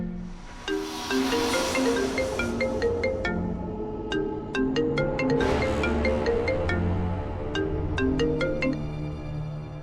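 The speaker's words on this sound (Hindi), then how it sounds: "सर कोई फ़ोन नहीं उठा रहा है।" A phone plays a melodic ringtone loudly and repeatedly, its tune looping for about ten seconds without being answered, with no speech over it.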